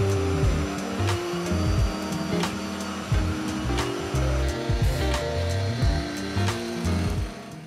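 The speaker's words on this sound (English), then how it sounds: "I run them through the router table to create a groove for the bottom" A router table cuts a groove in wooden pieces meant for the bottom of an equilateral triangle box, giving a loud, steady motor whine with continuous cutting noise throughout.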